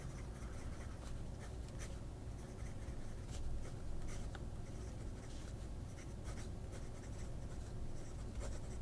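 Broad-nib fountain pen scratching steadily across paper with Pelikan Smoky Quartz ink, a close, faint continuous writing sound with small stroke accents throughout.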